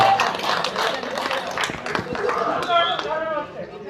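An audience clapping at an Urdu mushaira poetry program at a school, scattered hand claps mixed with murmuring voices and chatter, fairly close and uneven rather than a full sustained ovation.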